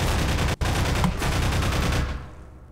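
A loud, dense burst of sci-fi energy gun fire in a video game, continuous and roaring with one brief cutoff, then fading out near the end.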